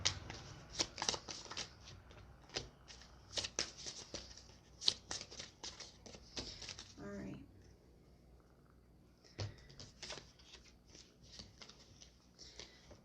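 Oracle card decks being shuffled close up, a run of crisp riffling and flicking bursts with short pauses, one brief gap near the middle, no talk.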